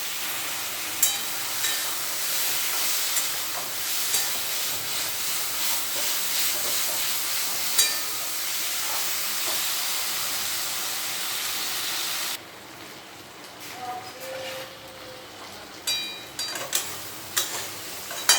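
Spices are stir-fried in a pan over a lowered gas flame. A steady loud hiss and sizzle carries intermittent spatula scrapes, then the sizzle drops sharply and quieter, clattering stirring strokes continue.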